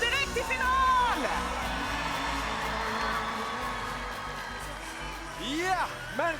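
Crowd cheering and whooping fills a Melodifestivalen 2023 heat arena in Sweden, a loud sustained roar of voices with some clapping mixed in, carrying on throughout.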